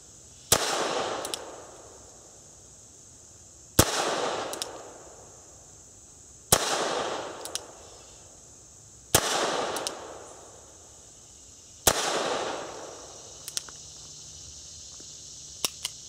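A Nagant revolver fires five sharp, loud shots at a target outdoors, spaced roughly three seconds apart, each crack followed by a ringing echo and small clicks of the action between shots.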